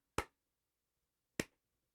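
Two sharp, isolated claps spaced over a second apart, a slow, deliberate clap in an otherwise quiet setting, from the video game Portal 2.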